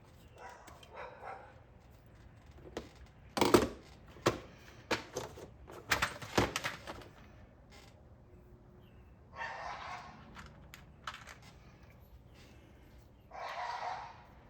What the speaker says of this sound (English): I don't know what the dogs are doing out there.